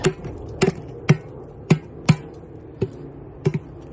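Sharp hammer blows strike something hard and icy, about eight irregular knocks, close and crisp, with no talking.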